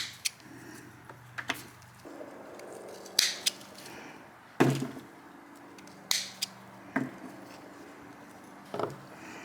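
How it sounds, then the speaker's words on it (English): Scissors snip damaged parts off dahlia tubers, sharp separate crunchy cuts at irregular intervals, about a dozen clips close up against a quiet background. "You can cut all that nasty stuff off there too."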